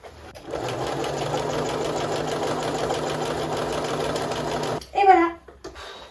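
A sewing machine runs steadily for about four seconds while darts are stitched on a trench coat, a continuous loud whirring drone. It stops abruptly, followed by a short burst of voice.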